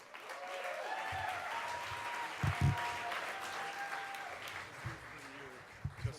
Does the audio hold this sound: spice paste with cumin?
no